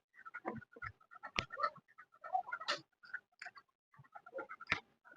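Lakka pigeons feeding inside a dirty coop make soft, intermittent cooing and scratchy calls in short bursts, fairly close and quiet, with no one talking.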